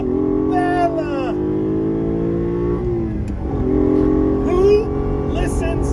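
A Ferrari Dino 246 GTS mid-mounted V6 engine revs up and down with a rich, rising and falling tone, close by, while a person talks over it.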